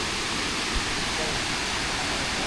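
Tumpak Sewu waterfall in Indonesia pours as a dense, steady roar of rushing water, loud and continuous, filling the whole moment.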